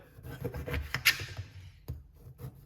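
A knife scrapes and rasps against the firm skin of a Galia melon in short, uneven strokes, close by, with a couple of sharper cuts standing out.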